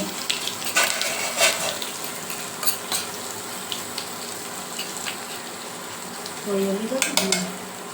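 Garlic chutney tempering in hot oil with dry spices sizzles softly in a pan, a low, steady frying hiss with a few scraping stirs and one louder burst near the end.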